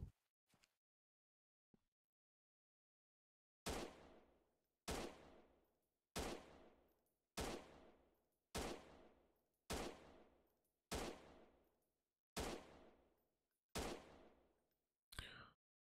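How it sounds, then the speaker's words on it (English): Bursts of machine-gun fire from the video game Freeman: Guerrilla Warfare, with a couple of faint shots and then roughly ten loud, evenly spaced booming blasts, each trailing off in a short echo. "That was a machine gunner."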